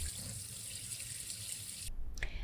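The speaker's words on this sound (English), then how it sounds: "I changed out the nozzle for my faucet head to a spray one." Water streams steadily from a kitchen faucet's spray nozzle as a broad hiss, then cuts off abruptly, leaving a few small clinks and drips.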